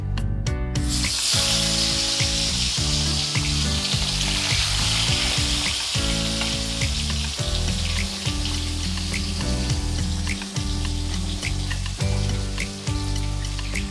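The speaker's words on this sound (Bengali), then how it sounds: "তেল গরম হয়ে গেছে এবার আমি মাছগুলো ভেজে নেব" Pomfret fish fry in hot mustard oil with a loud, sustained crackling sizzle that starts sharply and stays close and steady throughout, with occasional bubbling pops.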